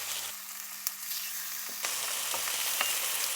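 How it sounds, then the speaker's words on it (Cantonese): Pork chops fry in hot oil in a wok over medium-high heat, giving a steady, close, crackling sizzle with a few sharp pops and a brief low thump. "啲油熱咗之後咧，我哋將啲豬扒放入去"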